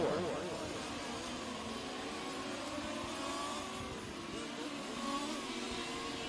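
A fifth-scale on-road RC race car's small engine buzzes around the track at a world championship, its whining note rising and falling at moderate distance with a faint voice underneath.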